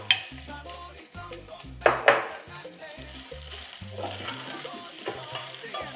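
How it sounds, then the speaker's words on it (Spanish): Rice being stir-fried in a pan with sautéed garlic and ginger for Peruvian arroz chaufa, a steady sizzle broken by sharp scraping clinks of a utensil against the pan, with music playing throughout. "Vamos a agregar el arroz para que se incorpore con esos sabores que sueltan el ajo y el jengibre sofrito."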